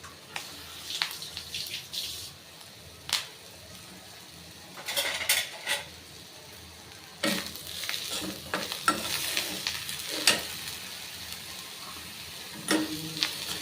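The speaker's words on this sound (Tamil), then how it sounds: "தேங்காயை வந்து ஒரு ஒரு மூடி அப்படின்னா அதில் ஒரு கால் மூடியினுடைய அளவில் வெள்ளத்தை பொடித்து இது கூட சேர்த்து இதை வந்து லைட்டாக நம்ம வறுத்துக்கணும்" Grated coconut and powdered jaggery lightly roasting in a pan, heard as soft scraping and stirring with intermittent clinks and scuffs of a spoon against the pan over a faint sizzle, close and without talk.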